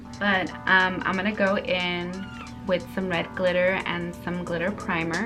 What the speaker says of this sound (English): Sorry if you can hear my baby kitties crying over there.